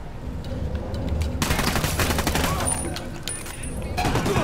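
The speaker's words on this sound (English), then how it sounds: "Shooting these fuckers." Rapid bursts of gunfire from Ghost Recon Wildlands erupt after a quieter opening, a dense, loud fusillade of overlapping shots that runs on with brief lulls and fresh volleys near the end.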